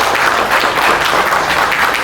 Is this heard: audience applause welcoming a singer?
yes